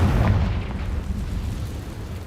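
A Confringo spell explosion in Hogwarts Legacy, a deep booming blast at the start that rumbles and fades into a low lingering roar.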